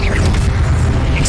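A Confringo spell in Hogwarts Legacy bursts as a short, loud low boom with crackling debris, with a voice shouting over it.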